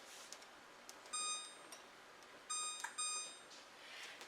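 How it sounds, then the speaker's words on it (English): Quiet, high-pitched electronic beeps from a kitchen timer sound in short bursts, a few spaced pulses with a soft hiss in between. "But now I'm going to put this on a timer"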